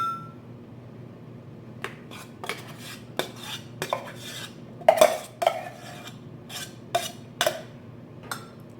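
Dehydrated backpacking food being turned out into a bowl, heard as scattered clinks, taps and scrapes of utensil against dishware, each sharp and close, separated by short pauses in a quiet room.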